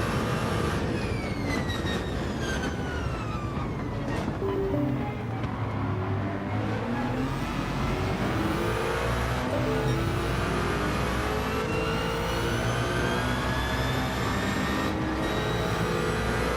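Ferrari hypercar engine in a Gran Turismo 7 race, a loud continuous engine roar with rising and falling gear sweeps and quick shifts throughout, no talking.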